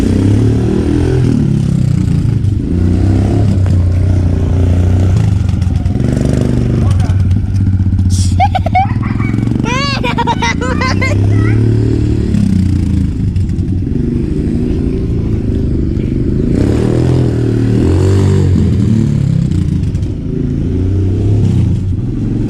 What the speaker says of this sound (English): Kawasaki KLX 110 with a big bore race engine kit.